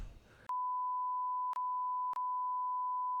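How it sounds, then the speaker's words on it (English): A steady, loud censor beep at one fixed pitch runs almost without a break, cut by two very short gaps, after a brief burst of muffled speech at the start. "it's probably going to be beeped out"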